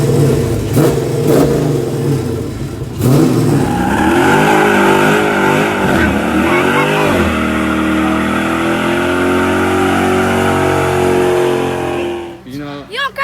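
A Mopar car's engine revs hard through a burnout, a loud, sustained roar rising and falling in pitch with the throttle before cutting off near the end, with voices heard underneath.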